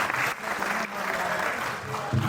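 Applause from the audience at a Hindi poetry gathering at Bundelkhand University, a continuous wash of many hands clapping at moderate volume, steady with slight swells and no break.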